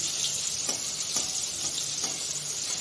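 Dhokar, Bengali lentil cakes, fry in a little oil, giving a continuous close hiss and sizzle with a few faint stirring taps underneath.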